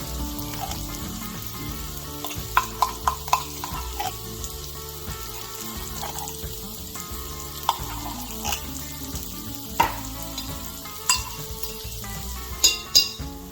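Chili in a pot being stirred as tomato paste goes in, with soft scraping and wet, bubbling stirring sounds and a few sharper knocks of the spoon against the pot, steady and close.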